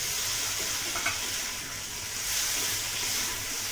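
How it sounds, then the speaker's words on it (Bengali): Boiled eggs stirred and sautéed in a spiced chilli-turmeric masala that has released its oil, for a restaurant-style egg curry: a steady close sizzle with scraping spatula strokes, no voices. "এর মধ্যে ডিমটাও কষিয়ে নেব।"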